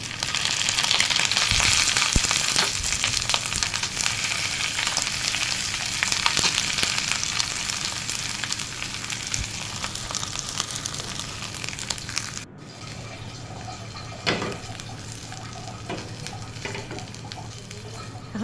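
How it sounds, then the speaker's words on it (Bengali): Fritters of dried fish with gourd leaves fry in a light layer of oil, a steady close crackling sizzle that softens after a brief break partway through, with no talk. "এখন আমি এগুলোকে আবার একটু হালকা তেলে ভেজে নেব।"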